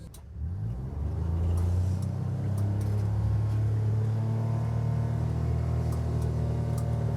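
A utility vehicle drives as fast as it can across a field, pulling a chisel plow. Its engine gives a close, loud, steady drone that holds constant to the end.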